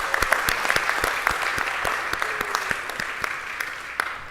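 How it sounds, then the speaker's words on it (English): An audience at a Next Gen Academy event applauds, a steady crowd of clapping with sharp individual claps standing out close by, continuous for several seconds. "Let's give a round of applause, though."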